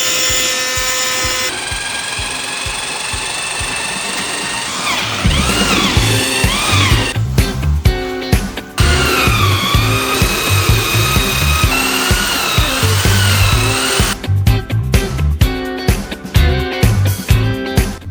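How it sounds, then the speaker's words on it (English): A handheld power sander grinds across a cured concrete bar surface, a loud, steady whir that runs continuously with shifting pitch and brief pauses, close by with no talk. "sanding it down to get it to be smooth, you do have to work the concrete quite a bit"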